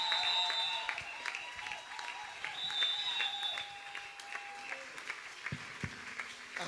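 A church congregation applauds, with steady crowd clapping close and continuous as a voice speaks over it.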